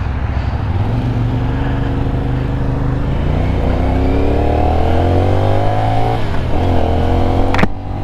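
A CFMoto 450 NK motorcycle engine revs loudly and close by, the pitch climbing steadily, then dropping briefly as if shifting gear before climbing again.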